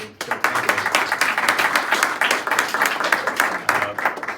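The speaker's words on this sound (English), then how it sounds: "Let's give him a round of applause." Audience at a Bridgeport press conference honoring police officers, applauding Senator Blumenthal with a sustained round of close, lively clapping from a modest crowd.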